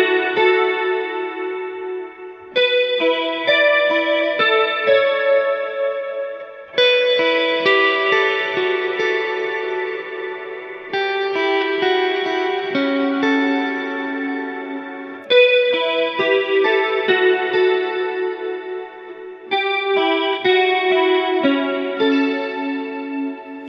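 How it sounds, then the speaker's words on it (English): Electric guitar chords run through a Strymon Ola chorus pedal on its deep multi-type setting, giving a lush, wavering shimmer. The chords ring out alone over several long sustained phrases. "I'm just going to use my Strymon Ola on the multi-type, which is even deeper than the regular chorus."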